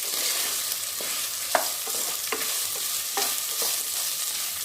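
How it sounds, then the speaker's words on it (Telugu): Beans, carrot, green chillies and potato frying in oil in a pressure cooker for veg biryani, with a constant close sizzle and several soft knocks of a stirring spoon against the pot. "మొత్తం బీన్స్ క్యారెట్ నాలుగు పచ్చిమిరపకాయలు పొటాటో మొత్తం వేసేద్దాం వేసుకొని వేపుకుందాం"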